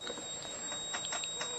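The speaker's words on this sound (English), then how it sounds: "Now this alarm is not very loud, so I'm a little disappointed in that" An RV safety detector sounds its alarm after a test trip: a faint, steady high-pitched electronic tone runs throughout with soft clicking and knocking beneath it, quiet and close.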